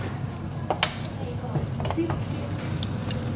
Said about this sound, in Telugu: కట్ చేసుకున్న రెండు టమాటా ముక్కలు కూడా దీంట్లో వేసి బాగా ఫ్రై కావాలి